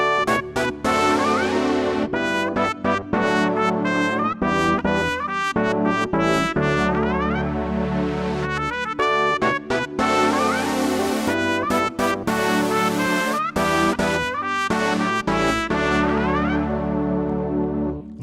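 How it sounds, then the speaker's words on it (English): Keyboard pad layered with trumpet, brass and electric piano voices plays a full, continuous gospel accompaniment for about eighteen seconds, with sustained chords and bright brass stabs and no talking. "If the pad accompanies with the trumpet, the brass, and the EP alone, it sounds like this right now."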